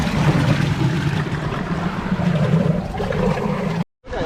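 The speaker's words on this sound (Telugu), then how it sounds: "అరే వాటర్ ఫాల్." Rushing water at Bheemili beach in Andhra pours in a dense, steady roar, loud and close with no voices, then cuts out abruptly near the end.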